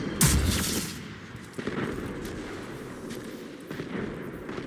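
Rocket launcher blasts in the video game Destiny 2, a loud boom at the start followed by two further rumbling detonations with a steady roar of gunfire and combat noise beneath.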